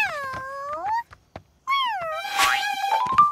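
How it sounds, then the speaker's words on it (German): Cartoon cats meowing in bright, sliding, tuneful cries, two long meows separated by a brief pause and then a busier overlapping meow, loud and close. "Oh, was für ein süßes Kätzchen."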